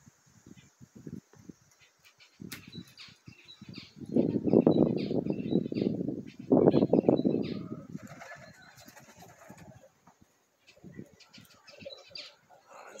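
Vienna tumbler pigeons outdoors, cooing and calling, with a louder burst of activity in the middle, while someone speaks at times.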